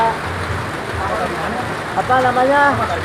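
Steady rain hisses down at Curug Cibulao, a waterfall spot in the hills, a constant wash of drops under a voice talking close by.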